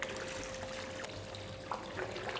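Annatto colouring poured into milk while making Red Leicester cheese, a faint, soft liquid trickle running steadily without talk.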